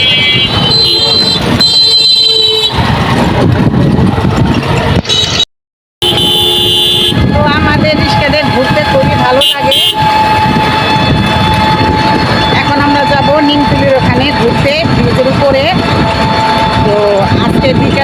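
A traffic jam on a bridge fills the air with repeated car and truck horn blasts and steady engine rumble, loud and close, with someone talking over the din and a brief dropout midway.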